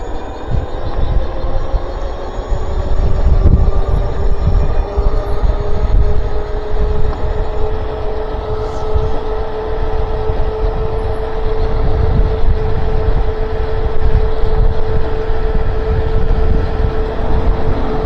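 Strong headwind buffets the microphone while riding an e-bike, a loud, continuous low roar with gusting swells and a faint steady whine beneath.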